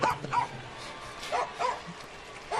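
A big dog barks at a baseball game, a few loud woofs in small bursts spread out against steady crowd noise from the ballpark.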